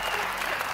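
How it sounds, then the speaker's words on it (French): An audience applauds Rocky with steady, even clapping throughout a short burst, at moderate level and without speech. "Et on applaudit Rocky."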